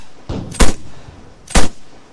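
Sniper rifle fire in the video game Arma 3: two loud, sharp shots about a second apart, with a fainter crack just before the first, each ending in a short echoing tail.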